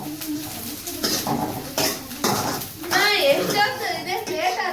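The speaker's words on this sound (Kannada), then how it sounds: "ಸೊ ಈರುಳ್ಳಿ ಮೆಣಸಿನ್ಕಾಯಿ ಎಲ್ಲ ಫ್ರೈ ಆಗ್ತಾ ಇದೆ." Onions and green chillies fry in a pan for homemade gobi manchurian, a soft sizzle with clinks and scrapes of a utensil against the pan, heard beneath continuous talking.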